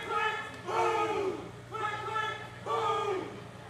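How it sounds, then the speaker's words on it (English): A wrestling crowd at a live event chants in three rhythmic swells, a rising group of voices repeating a short phrase, loud and close throughout. "Chant of click, click, boom going up in the crowd right now."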